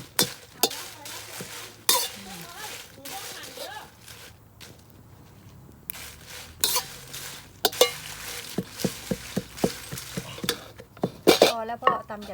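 Chili and salt dry-roasting in a pan over a gas stove, a utensil scraping and clinking against the metal in irregular bursts with soft sizzling between, close by, while someone talks over it.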